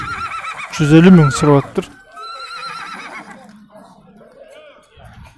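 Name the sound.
horse neighing at horse market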